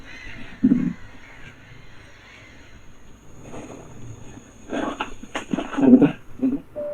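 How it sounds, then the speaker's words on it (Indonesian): Birds call in scattered bursts around an abandoned house, including crow-like caws, rising into a denser cluster of calls toward the end amid quiet background. "Tiba-tiba banyak burung."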